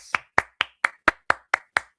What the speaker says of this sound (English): Let's applaud Hassan.